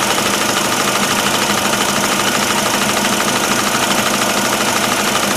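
A compressor running after kicking back on, giving a loud, steady mechanical hum with a fast, even pulsing throughout and no pauses.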